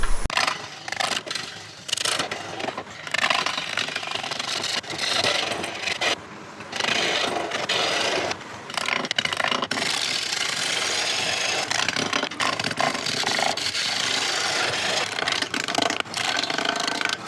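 Wood lathe turning a live edge Tabebuia bowl at about 400 RPM, a steady close scraping and rubbing of the tool on the wood that runs continuously with brief dips.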